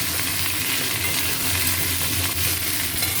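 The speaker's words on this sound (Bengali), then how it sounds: "এটা এখন অনেকক্ষণ ভাজা হবে বন্ধুরা দেখুন খুব ভালো করে এখানে ভাজতে ভাজতেই সেদ্ধ হয়ে গেছে" Food fries in a pan with steady, dense sizzling that stays loud and even throughout, close up, with no talking over it.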